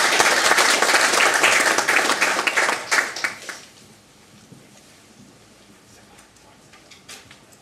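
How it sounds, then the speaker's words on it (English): An audience applauds loudly at the ZEF Friends Prize 2012 award ceremony, then the clapping fades out to a quiet room with a few faint isolated claps. "a round of applause to welcome you"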